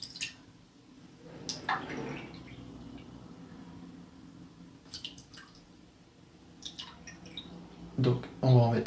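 Water poured into a measuring cup while making syrup, coming as a few soft, brief trickling splashes over a quiet room background, with a faint voice near the end.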